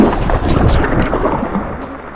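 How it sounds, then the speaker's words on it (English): Steady rain drums on a car roof and windows during a tropical cyclone, heard from inside the car as a dense, continuous wash with gusty low rumble throughout. "Sitting in the car in the rain for this one."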